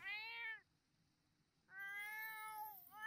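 Two clear meows from a cat in The Sims 4, one short call at the start and a longer drawn-out one after a pause, close and loud with no talk over them.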